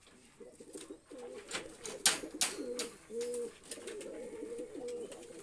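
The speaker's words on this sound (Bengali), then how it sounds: "খুব দেখুন ডাকছে মেলের মতোই, কিন্তু এটা ফিমেল পায়রা" A female Rajshahi Giribaz pigeon coos in a loose run of soft, throaty burbling phrases, close by, with faint clicks and rustling of a loft room behind it.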